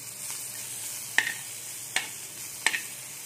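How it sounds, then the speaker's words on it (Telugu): Curry leaves frying in hot oil for a Telangana-style rasam, a steady soft sizzle broken by three sharp crackling pops spaced about a second apart. "మళ్ళీ ఆయిల్ పెట్టుకొని కరివేపాకు వేసి వేయించుకుందాం."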